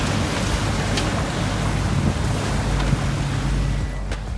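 Sailboat cruising under sail on the open ocean in the Bahamas, with steady water rushing along the hull, low wind buffeting the microphone and a few faint creaks, no talk.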